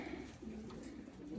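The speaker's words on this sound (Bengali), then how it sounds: "কবুতরটা অনেক অনেক ভালো নর কবুতর" A male pigeon coos in low, rolling throaty phrases, repeated a few times, close and clear over faint background.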